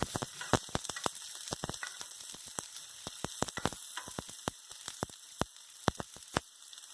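Onions and garlic fry in a pan over a low flame, a steady close sizzle broken by many sharp, irregular crackles and pops throughout.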